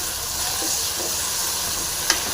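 Tomatoes fry in a pan with coriander and curry leaves for a drumstick curry, a steady close sizzling hiss with faint stirring scrapes and one brief sharp tap near the end.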